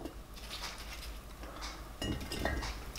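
Pieces of cut fruit drop into a scalded glass jar, giving a few light clinks and knocks against the glass over a soft steady background, with a slightly louder cluster of taps near the end.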